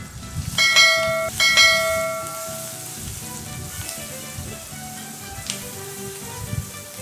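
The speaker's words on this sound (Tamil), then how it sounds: "உப்பு சேர்த்துட்டு நல்லா வதக்கிக்கோங்க." Mushrooms sautéing with salt and turmeric in a pan for a Tamil mushroom gravy, a steady soft sizzle running throughout, with a few sharp metallic clinks near the start, probably a spoon against the pan.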